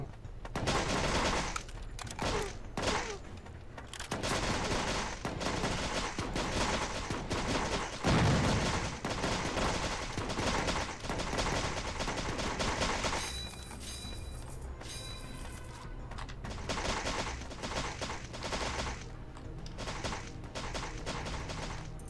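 Gunfire in the mobile game Bad 2 Bad Extinction, where armed animals fight zombies, crackles in dense rapid bursts of automatic shots, loud and near, with brief pauses between volleys.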